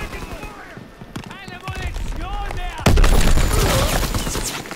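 Type 100 submachine gun firing in a WW2 video game, a burst of rapid shots joined by heavy gunfire that turns loud and dense near the end, with voices chattering over it.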